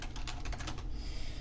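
Rapid typing on a computer keyboard while entering a first and last name into a form field, a dense, even burst of key clicks that fades near the end, fairly close and steady with no talking.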